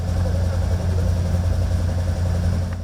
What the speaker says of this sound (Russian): Завести мотор, проверить салон, отряхнуть стекла от снега.